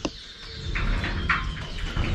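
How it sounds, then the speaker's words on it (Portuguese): Birds singing around a country farm (chácara) in Brazil: a few short chirps and whistled calls, moderately close, over a low background rumble, with no one speaking. "Mas pense no canto dos passarinhos."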